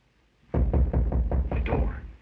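About seven firm, evenly paced knocks on a door in a 1929 mystery film, fairly close and slightly boomy, with no speech over them.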